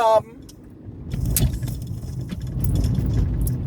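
A small car rumbles along a rough road, low engine noise with rattling bumps and jostling, after a brief spoken word at the start.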